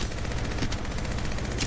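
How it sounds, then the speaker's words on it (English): Enemy gunfire in the video game Apex Legends, a dense, steady stream of rapid shots running without pause and loud throughout. "Taking fire, brothers! The enemies are shooting at me!"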